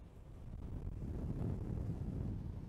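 Strong wind buffets the microphone on a bridge over a bay, a steady low roaring rumble that swells slightly and carries on without any voices.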